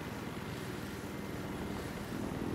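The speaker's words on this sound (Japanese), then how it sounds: "パトロールヘリってなんだろうちょっと行ってみよう。 あ、撃てるヘリだ。" Patrol helicopter in the video game Battlefield Hardline, a steady loud rotor and engine drone with a dense rumbling low end, continuous throughout with no voices.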